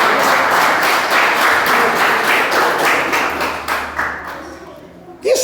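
Church congregation applauding for Jesus during a Portuguese-language sermon, a dense burst of clapping that fades out over several seconds as a voice begins to rise.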